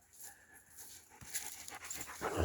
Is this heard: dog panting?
yes